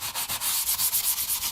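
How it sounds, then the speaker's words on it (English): Rhythmic back-and-forth sanding on a guitar finish with a fine sanding pad, a steady scratchy hiss pulsing about eight times, close and fairly loud. "This is like quite a fine grit sanding pad."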